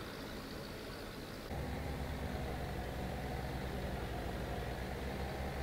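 A tractor engine runs in Farming Simulator 17 as the machine drives toward a field. It makes a steady, dense rumble that grows slightly fuller partway through and continues without a break, with no talking.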